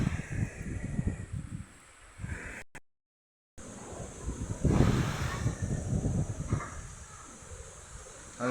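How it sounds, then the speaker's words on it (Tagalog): Strong wind roars through large banana trees and buffets the microphone in gusts, with a brief dropout partway through; no one speaks. "Hanggang ngayon po malakas pa rin po ang hangin dito"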